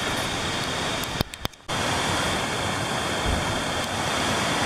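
Continuous broadband rush of a creek flowing below a woodland trail in the Elkmont area of the Great Smoky Mountains, steady and fairly loud, with a brief sharp dip near the start.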